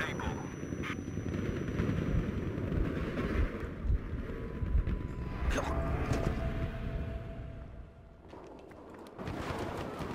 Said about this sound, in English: Look at these guys firing the guns like